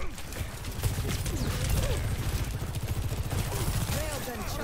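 Sojourn's weapon fire in Overwatch 2, a dense stream of rapid shots and mechanical clatter during a chaotic team fight, with chirping ability effects and faint voices underneath.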